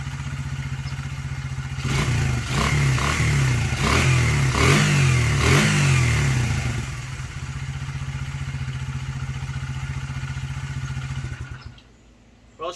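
A 1977 Honda XL75 motorcycle engine idling steadily and loudly nearby, blipped through several quick revs early on, then settling back to a rattly idle before cutting out near the end.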